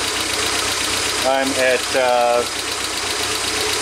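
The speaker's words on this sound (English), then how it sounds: "my engine is really shaking right now. It's having a misfire" A 1992 Toyota MR2 engine idles roughly with a misfire and a bad computer ground, a loud continuous uneven rumble close by, while someone speaks briefly over it partway through.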